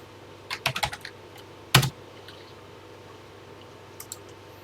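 Keys clack on a computer keyboard as an old program is entered by hand, a quick burst of several taps, one louder strike, then a pause and two faint final keystrokes, close to the microphone with no talking.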